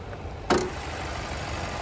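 A 2024 Chevrolet Traverse Z71 with a 2.5 liter turbocharged four-cylinder idling in an open engine bay, a steady low hum with one sharp click partway through, close and even.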